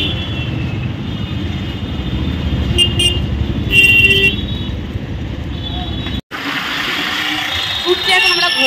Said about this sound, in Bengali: চাম্পাটি জ্যাম দেখো এখন এই টাইমে।